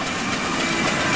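A steam engine runs quietly at the Great Dorset Steam Fair, a steady broad hiss and rumble with a faint rhythmic clatter, close and unbroken by talk.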